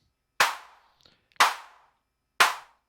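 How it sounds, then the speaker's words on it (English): Three tight, dry clap hits from a Weston Precision Audio AD110 analog drum synthesizer, evenly spaced about a second apart, each a crisp snap with a short decay and faint clicks in between. "I like tight claps."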